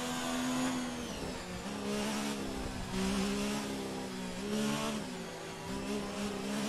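Racing car engine in a video game on a hot qualifying lap around Monaco, a loud continuous whine rising and falling through gear shifts and revs for the whole stretch, alone without talk.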